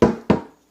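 A wet vinyl record is knocked against a hand twice in quick succession, two sharp, close slaps, each with a short damped decay.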